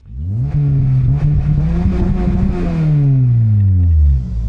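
Honda Civic Type R with a knock sensor fault, its engine revving loud and close as it pulls off a ramp, the pitch climbing, holding, then dropping away as it settles.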